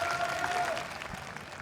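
Hometown crowd at a VALORANT Champions Seoul match between Fnatic and DRX, a steady wash of applause and cheering from a large arena audience, with a faint tone and commentary under it.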